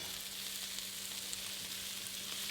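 Diced onions, chillies and pimientos de padrón sizzle in a pan for Puerto Rican red rice, a steady soft crackling hiss, even and unbroken, with no talk over it.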